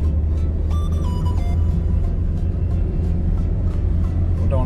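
A car engine hums steadily in second gear while climbing a hilly road to Ajodhya Pahar, a constant loud low rumble with faint tonal whines and light ticking above it.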